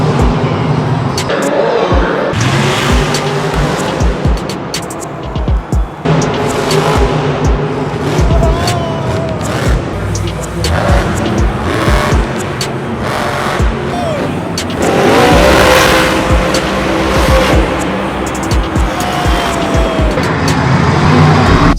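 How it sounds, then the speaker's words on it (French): V8 monster trucks of 1500 horsepower on tractor-sized wheels roar and rev at a live event, loud and sustained with repeated surges of throttle, while crowd noise and voices mix into the din. "des putains de bolides V8 1500 chevaux avec des roues de tracteur"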